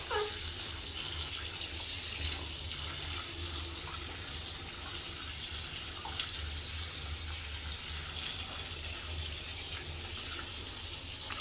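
Steady, loud water spraying from a hose onto a computer motherboard, a continuous hissing rush with no pauses, heard on its own without speech.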